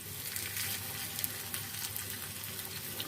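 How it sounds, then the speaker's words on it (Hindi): Crispy potato kebabs fry in a pan over normal heat, giving a soft, continuous sizzle with faint crackles. Quiet and steady, with no one talking. "एक साइड से 1 मिनट के लिए फ्राई कर देते हैं नॉर्मल आंच पे"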